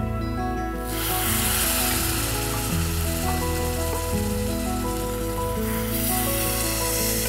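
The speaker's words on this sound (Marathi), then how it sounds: "आता यामध्ये कुकरमध्ये शिजलेलं चिकन घालूयात।" Pressure-cooked chicken goes into hot Kolhapuri rassa masala with a loud, continuous sizzle and frying crackle, a brief stir shifting the tone partway through.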